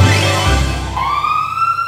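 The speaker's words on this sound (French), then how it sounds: "Ah, j'entends une sirène." Police siren in GTA 5, loud and close, with a low engine rumble that gives way to a rising wail that climbs steadily in pitch, heard alone without talk.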